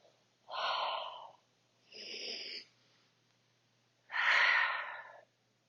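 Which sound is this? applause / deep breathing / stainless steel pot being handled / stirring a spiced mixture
deep breathing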